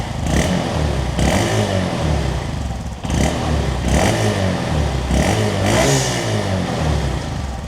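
Honda Monkey motorcycle with its stock exhaust, warmed up and held stationary, revved repeatedly: about six rises and falls in engine pitch, near and loud, with a muted exhaust note and no voices.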